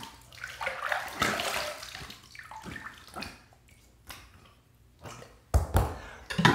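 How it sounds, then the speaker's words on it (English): Running water gurgles and splashes as a shaving razor is rinsed after a second pass, coming in uneven bursts with brief taps of the blade, close by and with no speech. "Second pass done. Let's rinse."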